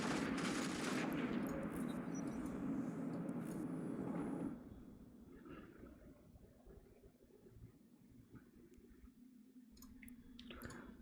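Large projectile turrets fire in the space game Eve Online, a dense rolling barrage of booming shots for the first few seconds before dropping to a low hum with a few scattered distant bursts.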